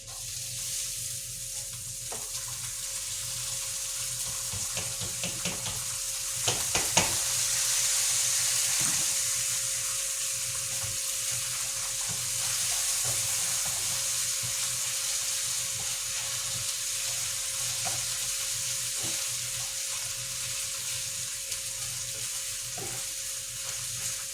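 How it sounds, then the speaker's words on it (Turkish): Rice pilaf sizzles steadily in a hot pan for the whole stretch. A spoon scrapes and stirs it now and then, giving occasional clinks and knocks. There is no talking. "güzelce bir kavuralım arkadaşlar pilavımızı"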